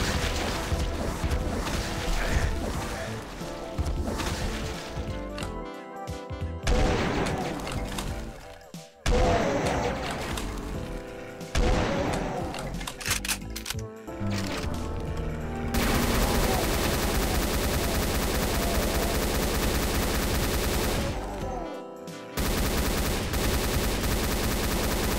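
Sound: chaingun firing in the video game Doom II

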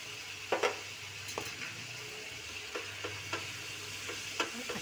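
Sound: cream being stirred into matar paneer gravy

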